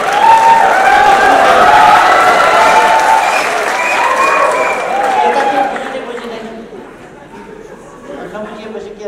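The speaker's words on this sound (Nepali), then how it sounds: "अघि ऋषि भाइले थुप्रै ताली खानुभयो, थुप्रै ताली खानुभयो, राम्रै बोल्नु भएछ भन्ठानेर मैले पनि घरिघरि पड्काएँ।" An audience at a Nepali political speech claps and murmurs, with dense applause that is loud at first and then gradually thins out into scattered clapping and crowd chatter, while a voice talks over it.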